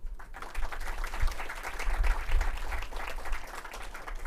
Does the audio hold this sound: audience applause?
yes